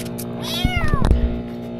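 A pet cat gives a single clear, loud meow with a rising then falling pitch, close to the listener, followed by a few soft thumps and shuffling noises.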